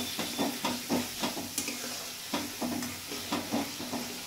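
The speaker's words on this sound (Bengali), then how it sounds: "এই আদা, পেঁয়াজ আর রসুনটা একটু হালকা করে কষিয়ে নেব।" Ginger, onion and garlic paste with chili paste sautéing in a pan for pomfret masala curry, a continuous sizzle broken by regular scraping stirs, close and fairly soft, with no talking.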